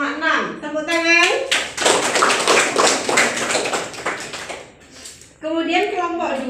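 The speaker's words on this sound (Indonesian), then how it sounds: "Tepuk tangan." Classroom applause for student groups announced with their scores, a burst of many hands clapping for several seconds between stretches of a teacher's voice and children talking.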